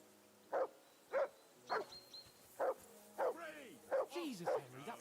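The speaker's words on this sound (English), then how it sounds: "I assume you can hear that damn dog of yours barking." A dog barks in a regular series of sharp woofs in Kingdom Come: Deliverance II, while a voice speaks over the later barks.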